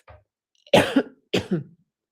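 A person coughs twice in close succession, each a sharp, raspy burst, after a faint short sound at the start.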